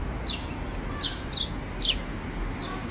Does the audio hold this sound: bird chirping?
yes